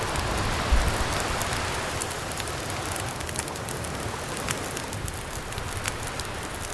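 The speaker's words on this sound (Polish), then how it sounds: "Roztopimy z półtora litra śniegu." Snow melting in a pot over a fire in The Long Dark video game, a dense, continuous crackling and hissing like rain on a surface, steady and fairly loud throughout.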